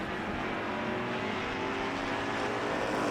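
Drag race cars at the US Street Nationals roar steadily at full throttle, a loud, continuous engine blare with no talk over it for three seconds.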